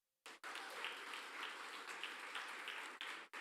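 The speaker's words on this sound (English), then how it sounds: "Give him a round of applause, man." Steady, dense applause from an audience at a maritime university student achievement award ceremony, continuous and even, briefly cut off near the end.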